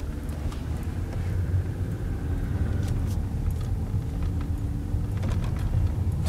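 A car driven by a paraplegic driver using hand controls rolls along with a steady low engine and road rumble from inside the cabin, with faint clicks and bumps over it.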